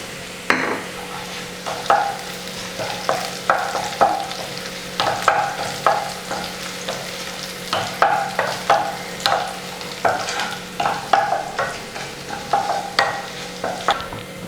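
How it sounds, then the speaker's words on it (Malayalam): Onions with curry leaves sautéing in a pan until brown, a constant sizzle under brisk, rhythmic scraping strokes of a spoon repeating through the whole stretch, close and loud with no talking. "ഉള്ളി ഒരു ബ്രൗൺ കളർ ആവുന്ന വരെ നന്നായിട്ട് വഴറ്റി കൊടുക്കുക."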